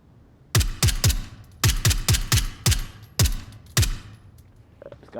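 Sharp, close gunshots from a gun in a VR shooter game, about nine of them in uneven bursts: some single, some fired in quick pairs or triples, each crisp and short with a low thump.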